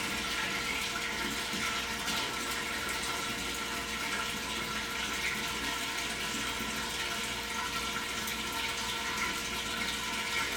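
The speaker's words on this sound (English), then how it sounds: "You can hear it draining now and see it drain." Water drains steadily from a pressure indicator column during hydrostatic pressure measurement, a continuous rushing, gurgling flow heard close and alone throughout.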